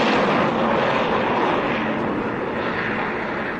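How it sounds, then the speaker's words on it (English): A freighter spacecraft passes overhead like a plane, a dense, loud engine roar that holds steady and eases slightly toward the end, with no voices. "Sounds like a plane of some kind."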